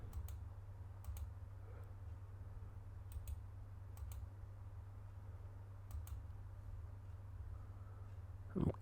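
Light computer mouse clicks during a Football Manager 21 session, sounding as a few sparse single and double taps close by over a steady low electrical hum, with no speech.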